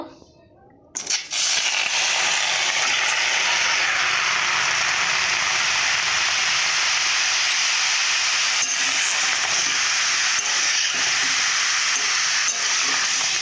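Dried red chillies frying in oil in a pan, starting with a brief hush, then a sudden loud, hissing sizzle that holds steady and close for the rest.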